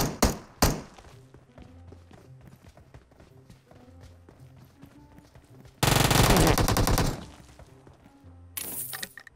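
Rapid bursts of gunfire in PUBG crack out, including a sustained loud automatic volley midway, with sharp single shots and mechanical clicks around it.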